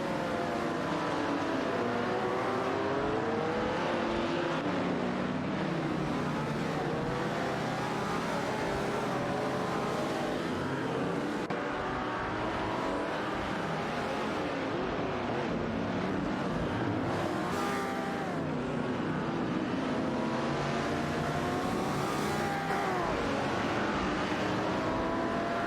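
Race cars in a video game race, a continuous dense engine roar with layered rising and falling whines as several cars rev and shift together, loud and unbroken throughout.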